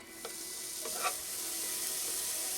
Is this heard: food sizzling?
yes